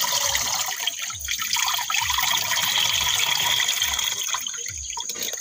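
Water pouring and trickling into a 16-liter tank sprayer while insecticide is being mixed for spraying beans, a steady splashing fill heard close with no talk.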